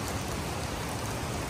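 Steady heavy rain during a rainstorm while riding a Kawasaki ZX10R motorcycle, a dense, even hiss of falling water with no breaks, moderately loud and close.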